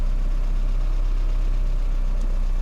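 A Peugeot 406 car engine idles steadily with a deep, continuous low rumble and a smooth, unbroken hum, heard close up and alone, with no voices, a faint tick or click briefly near the end.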